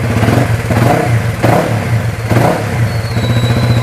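Close, loud revving of a Honda Wave motorcycle fitted with a CBR300 engine, its throttle blipped in several surges that rise and fall over a steady idling rumble.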